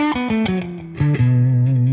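An electric guitar played through the Fender Reverb amp model on a Helix Stadium XL sounds a quick descending run of clean single notes, then sustains one low note.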